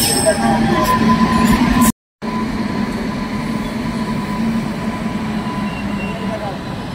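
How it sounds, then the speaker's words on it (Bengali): Continuous rumbling of a train departing a station with rhythmic rattling of carriages, briefly cut to silence, then resuming steady and close. "গাইস ট্রেন ছেড়ে দিয়েছে"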